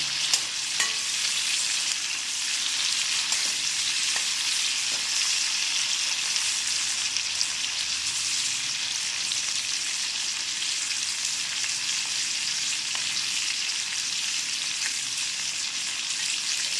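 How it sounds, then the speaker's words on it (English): Cauliflower frying in plain oil over a high flame, a steady, close, loud sizzle that runs unbroken throughout, with occasional faint clicks of stirring and no voices. "I'll just higher the flame a bit and cook the cauliflower well in the oil."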